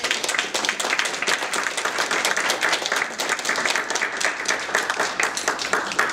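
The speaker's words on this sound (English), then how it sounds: "So another round of applause for all of our wonderful speakers." An audience claps steadily after a panel discussion on refugee discourse in Canada, a dense, sustained round of applause from a room of listeners.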